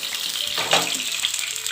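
Karimeen fish wrapped in banana leaf packets frying in coconut oil on a dosa pan: a steady, close, broadband sizzle with a brief louder hiss in the middle.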